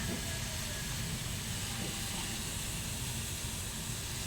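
Steady, even hiss with a low rumbling bubble underneath, a pot of dog food boiling hard on a stove, continuous throughout with no talking.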